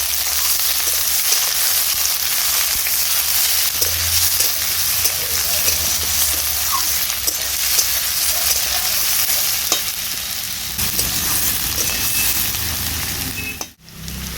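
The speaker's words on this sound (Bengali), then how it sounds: "আর ফুলকপি ডাঁটাগুলোও দিয়ে দিচ্ছি। নেড়ে চেড়ে দিচ্ছি।" Cauliflower stems and potatoes are stirred in a frying pan, giving a loud, steady sizzle with repeated scraping strokes of the spoon, close up, ending in a sharp knock.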